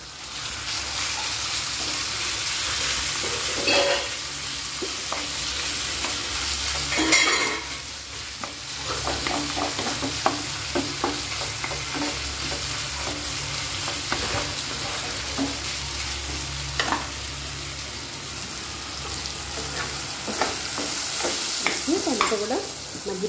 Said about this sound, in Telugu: ఆయిల్ వేడెక్కిందండి. చికెన్ ఆల్రెడీ మ్యారినేట్ చేసి పెట్టుకున్న చికెన్ని యాడ్ చేశాను ఫ్రైకి.